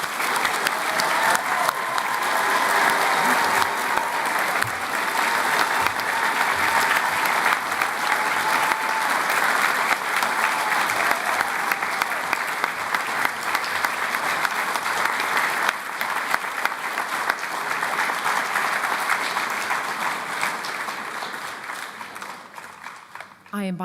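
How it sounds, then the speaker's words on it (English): Sustained applause from a graduation ceremony audience of nursing and midwifery graduates, steady and dense clapping filling the hall for over twenty seconds before tapering at the end. "Please join me in a round of applause for yourselves and the fantastic"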